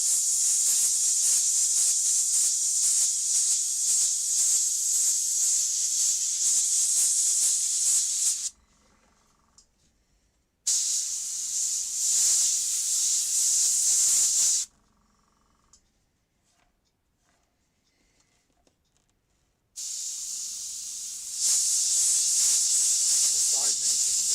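Spray paint hisses from an aerosol can in three long, loud bursts separated by silent pauses, with the third burst swelling louder near the end.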